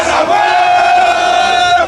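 Flamengo supporters chanting and cheering loudly in a street in Lima before the Conmebol Libertadores final, a dense, sustained crowd roar with a sung chant running throughout.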